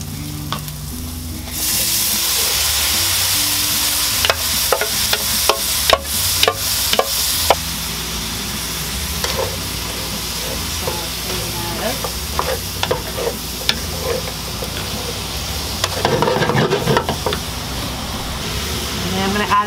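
Chopped mustard greens sizzle and hiss as they are stir-fried with crispy pork belly in a hot pan, with a steady frying roar broken by clattering utensil scrapes and tosses.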